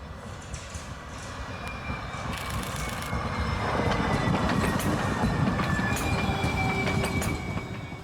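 A San Francisco MUNI F line streetcar rolls along rails on a right-of-way between Castro and the Cameron Beach Depot, a steady rumbling roar that swells louder midway, with faint wheel squeal and clicking over the track.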